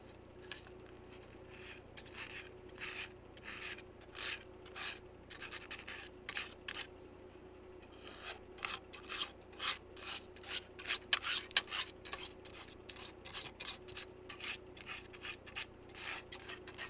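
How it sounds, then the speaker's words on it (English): Coarse 50 grit sandpaper rubbed by hand in steady back-and-forth strokes on a model boxcar floor, a rasping scratch repeating in a regular rhythm over a faint background hum. "the sandpaper I'm using is 50 grit, really coarse"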